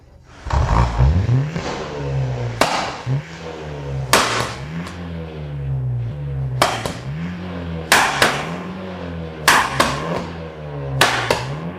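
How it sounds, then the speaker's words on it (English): A BMW drift car engine at operating temperature revs hard at full throttle in a series of sharp blips, each rising to a loud scream and dropping back to a lumpy idle, close and loud with no talking. "The car's at temperature so we can go full throttle."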